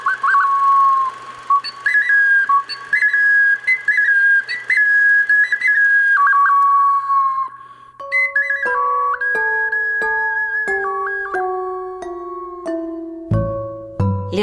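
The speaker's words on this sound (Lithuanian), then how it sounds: "Lietuvių tradicinės molinės švilpynės tai mažosios skulptūros kūriniai" Lithuanian traditional clay whistles played one after another, with bright warbling and trilled whistle tones, then a series of steady held pitches stepping up and down, clear and close with no talk.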